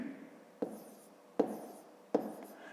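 A pen writes numbers on paper while a fifth-grade math multiplication exercise is worked out. Three quiet scratchy strokes land at a steady pace, each starting with a light tap, with faint room tone between them.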